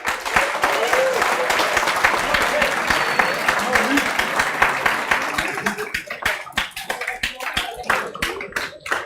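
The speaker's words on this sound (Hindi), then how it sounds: "इन बच्चों का जोरदार तालियों से स्वागत कर लेते हैं" Students in a CA Foundation law class clapping to welcome classmates, a loud dense burst of hand claps that thins out into scattered separate claps toward the end, with voices mixed in.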